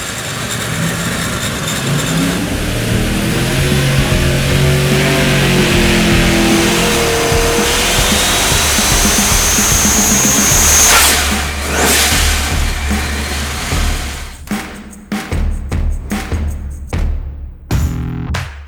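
Supercharged Hemi drag racing engine of more than 3,000 horsepower revving loudly on a light pull, a sustained roar that builds and holds before breaking into sharp, choppy blips as it winds down.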